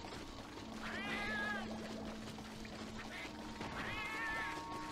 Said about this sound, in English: Are there cats in here?